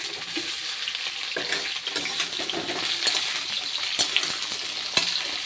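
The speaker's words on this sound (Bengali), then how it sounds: "তো আমি এই যে ভাজা ভাজা করছি" Potato and raw green banana frying in a pan, a steady broad sizzle with scattered sharp crackles and occasional utensil scrapes, close and moderately loud with no talking.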